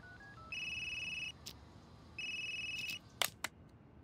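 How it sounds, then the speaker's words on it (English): Electronic phone ringtone in Unheard, two sustained tonal rings separated by a pause, fairly quiet, followed by a few brief clicks and beeps with no speech. "Another phone call."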